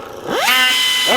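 A power tool spins up close and loud with a rising whine, grinding on a dual 4-inch titanium exhaust pipe, then revs again near the end.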